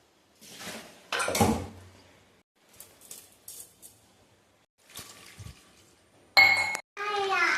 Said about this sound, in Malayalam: നമ്മളിത് കുക്കറിലേക്ക് മാറ്റി സ്വല്പം വെള്ളം സ്വല്പം ഉപ്പും ഇട്ടിട്ട്